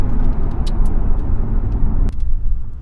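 A Mercedes-AMG GT S sports car drives along with a steady, loud engine and road roar throughout, and a brief sharp click or thump near the end.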